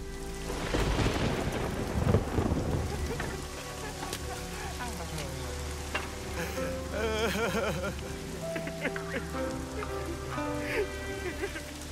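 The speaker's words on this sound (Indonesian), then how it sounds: "Hujan disertai petir malam ini" Heavy nighttime rain pours steadily while thunder rolls and rumbles loudly near the start, then continues as lower distant grumbles under the constant downpour.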